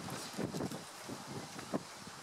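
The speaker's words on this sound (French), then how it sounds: "C'est pénible ce vent." Outdoor wind buffets a microphone in soft, uneven gusts, a faint rumbling hiss that swells and fades over a couple of seconds with no other clear sounds.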